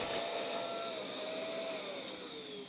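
A vacuum cleaner with a narrow crevice tool works over the fins of a baseboard heater, giving a loud, steady, close whine with a slowly drifting pitch and no talk.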